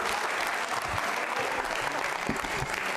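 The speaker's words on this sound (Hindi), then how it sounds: "जोरदार तालियां बजाइए।" Loud, dense applause from an audience at a Jain Social Group regional quiz show, cheering a contestant, with steady crowded clapping that stays strong throughout and carries no speech.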